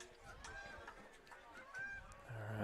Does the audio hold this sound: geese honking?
yes